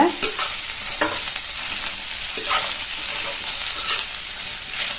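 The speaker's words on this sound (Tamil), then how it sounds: "சேப்பங்கிழங்கு சேர்த்துட்டு நல்லா எண்ணெயிலேயே ஹை ஃப்ளேம்ல வச்சு 2-3 நிமிஷம் நல்லா வதக்கிக்கங்க." Taro root with semolina sautéing in oil over a high flame, a loud steady sizzle broken by repeated scraping stirs of a spoon against the pan.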